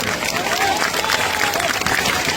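A crowd at Prashant Kishor's political rally in his home district in Bihar claps and murmurs in a dense, continuous wash of applause, with crowd voices mixed in throughout.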